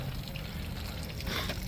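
Water trickles and pours steadily out of a camper's plumbing lines as they drain for winterizing, a continuous close splashing stream with no talk over it.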